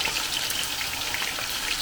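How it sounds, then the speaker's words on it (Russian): Potatoes sizzle steadily in a frying pan, a soft, even crackle with no talking over it. "Немножечко для красоты обжариваем картофель."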